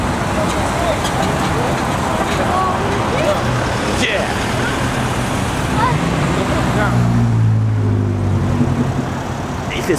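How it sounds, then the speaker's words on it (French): A classic Ford Mustang rolls along with other vintage cars in a parade on the Champs-Élysées in Paris: a steady wash of engine rumble and road noise runs throughout, with people talking over it. "Ford Mustang."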